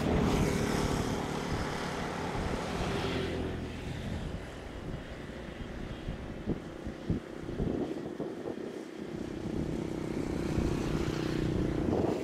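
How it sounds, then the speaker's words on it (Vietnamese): Boeing 737-800 airliner on the runway at Noi Bai airport, a broad steady jet roar with wind rumble that swells and holds throughout, loud and continuous with no talk. "Máy bay vừa hạ cánh là một chiếc 737-800 của hãng Simon Air"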